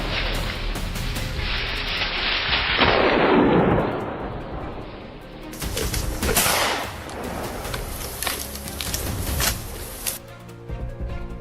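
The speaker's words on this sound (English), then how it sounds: "Gunfire erupted from multiple directions in a coordinated assault." Gunfire from multiple directions during a wild boar hunt, a dense roar of rapid overlapping shots and booming blasts that continues for several seconds with no talking.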